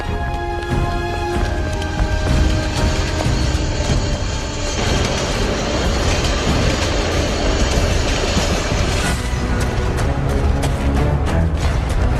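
A subway train rumbling loudly along the tracks, with rhythmic clattering of wheels and metallic squeals, continuous and close.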